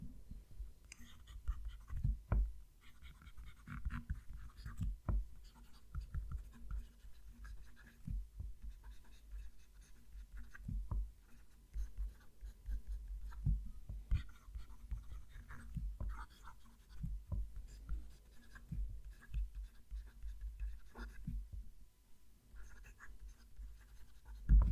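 Handmade fountain pen with a Cypress nib writing on paper, quiet close scratchy strokes with small taps, recurring irregularly throughout with no speech.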